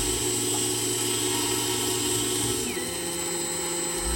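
Parting off a steam engine top cap on a Myford Super 7 lathe, a steady mechanical whine and motor hum with a constant tonal ring of the cut, loud and close with no talk.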